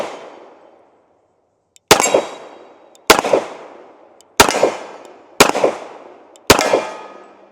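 Kimber Custom two-toned Next Gen 1911 pistol firing five sharp, loud shots at roughly one-second intervals, each with a ringing decay, after a quiet opening.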